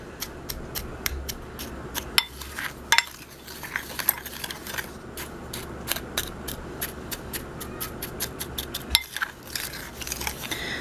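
Whisking or stirring Italian salad dressing ingredients, including garlic, in a bowl or container at close range, with rapid, steady clinks and scrapes of a utensil and a few louder knocks throughout, and no talking.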